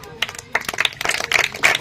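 Scattered audience clapping breaks out in short bursts during a political speech, close and uneven, with a voice speaking over it.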